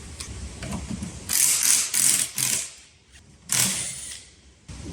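A ratchet wrench clicks in quick bursts while loosening bolts holding the handlebar clamp on a Yamaha Nytro XTX snowmobile, sharp close rasping runs separated by brief pauses.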